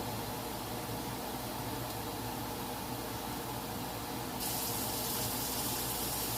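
Very hot water is poured steadily into a pan during pepper steak cooking, a constant hissing wash of liquid that turns brighter and slightly louder near the end, with no talking.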